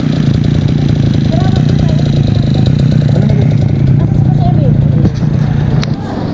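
A Yamaha scooter engine idles and hums steadily up close, a low rumble running throughout with faint background chatter.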